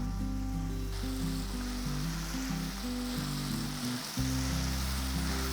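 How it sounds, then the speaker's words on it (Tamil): Onions sauté in a pan for fish curry, a soft steady sizzle running throughout beneath louder background music with shifting notes. "இதை கொஞ்சம் நல்லா வதக்கிக்கலாம்"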